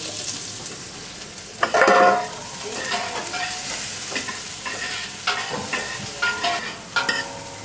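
Oil sizzling and frying in a pan while ingredients are stirred for a Filipino sopas soup, with a loud hiss burst near the start, then steady frying and intermittent spoon scrapes.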